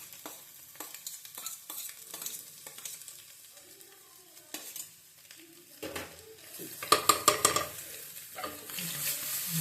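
Garlic, ginger, green chilli and roughly chopped onions stir-frying for egg fried rice, with a steady sizzle broken by repeated scraping spatula strokes and clatters against the pan, the sizzle swelling louder and busier toward the end.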